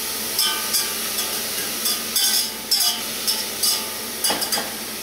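Vegetables sauteing in a pan over medium to medium-high heat, a steady soft sizzle broken by repeated clinks and scrapes of a utensil stirring at irregular intervals, close and alone without talk.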